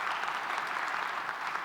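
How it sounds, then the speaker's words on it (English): An audience at a keynote talk on space exploration claps in a dense, steady burst of applause that fills the room throughout. "You can clap."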